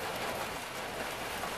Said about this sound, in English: this rain's really hooking in now